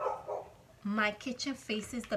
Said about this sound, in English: If you hear a dog barking, it's my mom's dog.